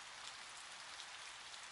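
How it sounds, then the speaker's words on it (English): Steady rain in the video game Boundless hisses evenly and continuously, a dense wash of drops with no other sounds over it. "It's raining."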